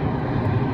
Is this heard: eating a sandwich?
no